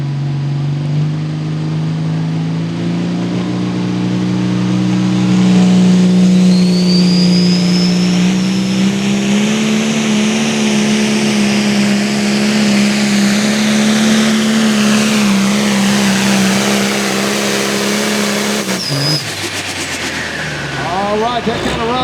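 Case International pulling tractor at a Limited Pro Stock tractor pull, engine roaring loud and sustained as revs climb through a long run, then cutting off sharply near the end, with an announcer speaking over it.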